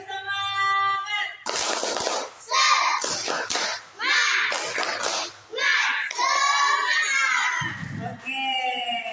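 Schoolchildren perform a clapping chant together, repeated rhythmic claps mixed with loud chanted and shouted voices, ending with a short spoken voice.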